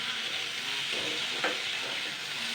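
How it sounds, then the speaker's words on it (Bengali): Chopped garlic and onion stir-fried in a pan make a continuous, close hissing sizzle, with a faint scrape of stirring partway through. "এইবার আমি এই রসুন কুচানো আর এই পেঁয়াজ কুচানোটা এবার আমি দিয়ে দেব এটা দিয়ে আমি এক মিনিট নাড়াচাড়া করব"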